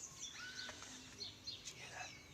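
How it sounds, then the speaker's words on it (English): Small birds chirp and tweet in short, high, scattered calls from a tree at Lake Tarawera at sunrise, all very faint and distant. "perhaps some of the bird life will come and join me in the tree"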